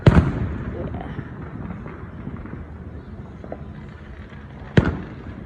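Neighborhood fireworks go off nearby. A sharp bang opens the clip, a rumbling crackle follows, and another loud report comes near the end, with voices faintly in the background.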